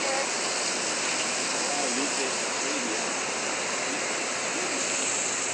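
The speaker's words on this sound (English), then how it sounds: "Nice hot shower." Warm shower water pours in a steady, dense hiss close by, continuous for several seconds with no break.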